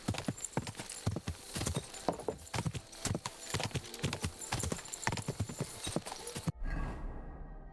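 Horse hooves clip-clop in a steady, brisk rhythm in the medieval video game Kingdom Come: Deliverance II, close and prominent, with a horse whinny near the end.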